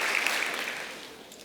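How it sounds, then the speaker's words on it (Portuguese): A church congregation claps in welcome for Bruno, a dense spread of hand applause that starts loud and tapers gradually over a second and a half, with no voices over it. "vai receber o Bruno também, né, com palmas"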